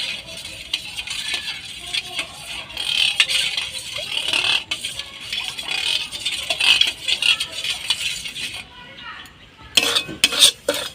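Cow's milk, previously boiled, being stirred with a little salt in a pot: continuous close scraping and clinking of a spoon against metal, with a brief pause before a few sharper rattles.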